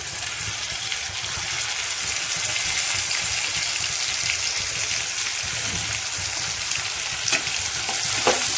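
Softened onion with ginger-garlic paste frying for chickpea curry, a dense steady sizzle close by with occasional spatula clicks near the end.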